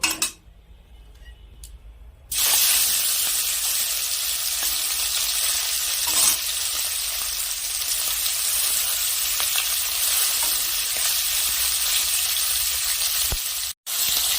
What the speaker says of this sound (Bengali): এখন আমি মাছ ভেজে নেব।